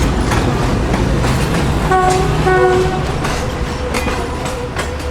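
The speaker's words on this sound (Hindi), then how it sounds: "ये GU20 के साथ एक अदर ट्रेन जा रही है भाई 4554" A passing train hauled by a GU20 locomotive rumbles close by, loud and continuous, with the horn sounding briefly in the middle and wheels clattering over the rails.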